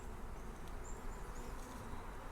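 Honey bees buzz steadily in an open hive during a beekeeper's hive check, a faint dense hum with no talk.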